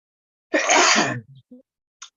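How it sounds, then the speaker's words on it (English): A single sharp sneeze from a man at a live-streamed summit, loud and close, followed by a short breathy exhale and faint small sounds. "I gotta sneeze as soon as it comes out."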